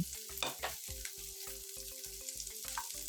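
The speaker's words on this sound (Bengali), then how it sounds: "ক্যাপসিকাম পরে দিয়ে সমস্ত সবজির সাথে ভেজে নিচ্ছি" Capsicum fries with mixed vegetables in oil for veg pulao, a soft steady sizzle under a regular pulsing background rhythm with occasional stir scrapes.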